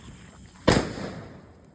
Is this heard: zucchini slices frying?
no